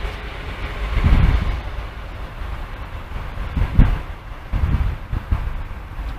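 A Class 143 train bound for Doncaster rolls past a level crossing, wheels clunking over rail joints in uneven bursts, with wind buffeting the microphone throughout.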